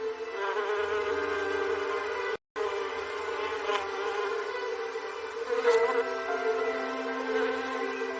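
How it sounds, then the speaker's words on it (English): Bees hum among flower beds and borders in a garden in late spring. The buzzing is steady and close, with no voices, and briefly cuts out once. "our flower beds and borders are abuzz with bees"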